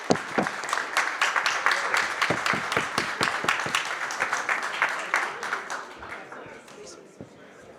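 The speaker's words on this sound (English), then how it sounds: "Big round of applause again." Audience applause at a global health conference panel, a burst of individual claps that stays fairly steady and close before thinning out and fading toward the end.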